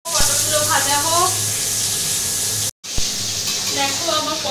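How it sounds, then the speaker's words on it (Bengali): Pointed gourd (potol) frying in a pan hisses with a steady sizzle while someone talks over it, and there is a brief gap in the middle. "পটলগুলো ভাজা হোক।"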